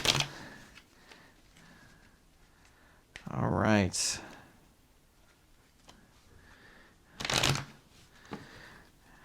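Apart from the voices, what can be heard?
shuffling a deck of cards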